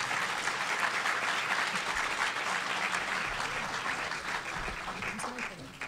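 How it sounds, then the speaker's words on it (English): An audience at an in-person climate change conference breakout session claps in a sustained, dense round of applause that fills the room and tapers slightly toward the end. "Everyone, please give them a round of applause."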